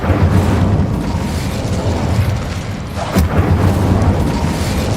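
Casting the Incendio fire spell in Hogwarts Legacy sends out a loud, continuous roaring burst of flame with a deep rumbling body, followed by a sharp whooshing flare about two-thirds of the way through.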